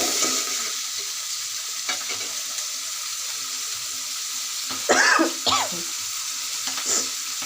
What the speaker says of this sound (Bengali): এখন আমি পেঁয়াজ, রসুন, জিরা বাটা দিয়ে দিচ্ছি। দিয়ে আমি এটা ভালো করে কষিয়ে নেব।